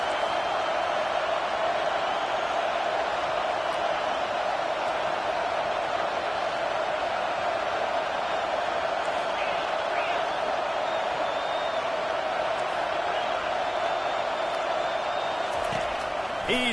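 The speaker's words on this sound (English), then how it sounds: "how nice is it to have the home crowd going absolutely bananas?" Home crowd roaring at a Michigan vs Colorado college football game, a steady, dense wall of stadium noise holding loud and unbroken throughout, with scattered whoops and shouts rising out of the din.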